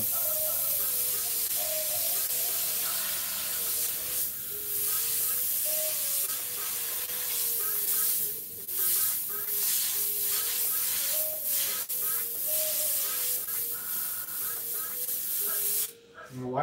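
An airbrush sprays white paint in a continuous close hiss that holds steady for over fifteen seconds, with a few brief dips and a soft tonal whine running underneath.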